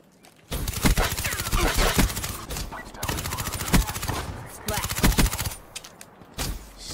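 A suppressed gun in a Call of Duty video game fires in rapid automatic bursts, dense crackling rattles repeated several times with brief gaps between strings of shots.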